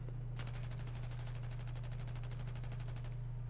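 M249 machine gun in Battlefield 4 firing one sustained automatic burst of rapid, evenly spaced shots for about three seconds over a constant low game hum, no talk.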